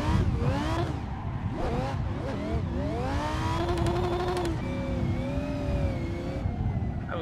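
Rear-wheel-drive car drifting under a clutch kick in Assetto Corsa, engine whining and rising in pitch with tire squeal layered on, loud and continuous throughout with no speech over it.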